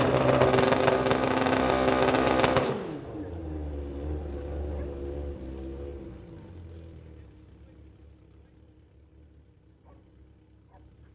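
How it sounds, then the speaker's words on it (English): Loud motorcycle engine roaring at a drag-strip street-legal racing event, sustained for nearly three seconds then dropping sharply to a lower fading drone as it pulls away down the strip. "just had to wait for the other motorcycle to clear the strip"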